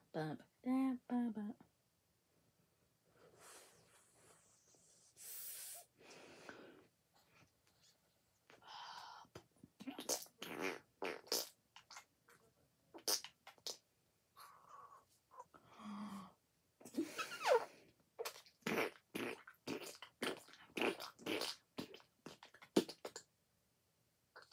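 A person imitates fart noises with their mouth in a series of short, sputtering bursts and blats, some spaced apart and others in rapid clusters, heard close and alone during a Fortnite session.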